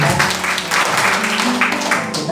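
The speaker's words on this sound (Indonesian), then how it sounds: "Berikan tepuk tangan dong buat kemuliaan Tuhan" Congregation clapping during a church worship service, a dense steady patter of hands filling the room with no voices over it.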